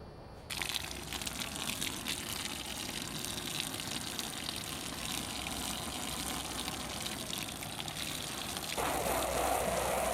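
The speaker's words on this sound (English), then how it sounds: "now I'm gonna spray it with this water and try to get all the extra dye out" Continuous rushing spray of water rinsing excess dye from tie-dyed fabric, close and steady, with a brief shift in tone near the end.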